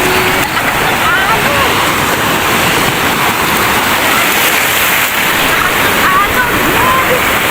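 Constant loud roaring wash of surf at Bagasbas Beach in Bicol, a surfing spot, a steady dense rush of water with little variation throughout.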